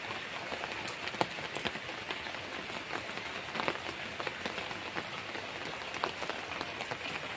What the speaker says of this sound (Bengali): বৃষ্টি যে হচ্ছে একদম ঝিরিঝিরি বৃষ্টি পড়ছে